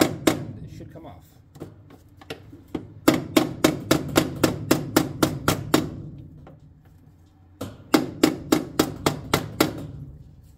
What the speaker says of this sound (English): you can just give it a couple taps with your pliers or a rubber hammer or something